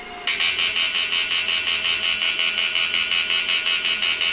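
A Cricket v2 electric fish-shocking machine with a 65 V transformer and a 450V capacitor bank is sound-tested. It gives a loud, steady high-pitched buzzing whine that pulses rapidly in a regular rhythm and starts abruptly after a brief lower hum.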